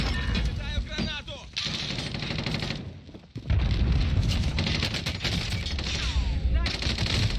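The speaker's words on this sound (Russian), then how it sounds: "Взрываю гранату." Bursts of gunfire and blasts from a grenade going off in a first-person battle game, loud and continuous with a deeper boom partway through, a voice talking underneath.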